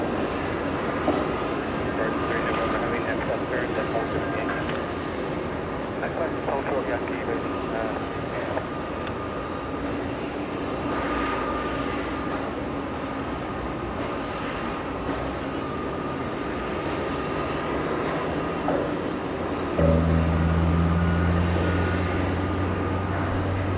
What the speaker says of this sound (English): A380 engine starting up, by the way.